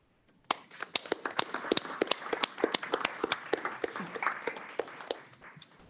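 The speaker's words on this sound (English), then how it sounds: "we're going to give you applause" A modest audience at a government board meeting claps in a burst of sharp, uneven hand claps that starts abruptly and keeps a steady patter for several seconds, with no talk over it.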